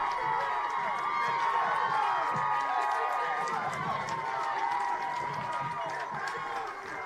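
Baseball crowd at a Concordia Chicago college regional game cheering a two-run home run, a dense sustained roar of shouts and claps that stays loud throughout, with voices mixed in.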